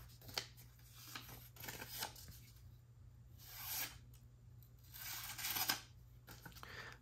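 A Petrified Fish Beluga knife slicing through material in a sharpness test, producing several faint, close hissing swipes in separate bursts with quiet gaps and a low hum underneath.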